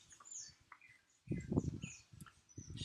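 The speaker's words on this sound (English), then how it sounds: "Birds." Birds chirp in short high tweets across a quiet outdoor background, with soft low rustling and thumping sounds in the foreground.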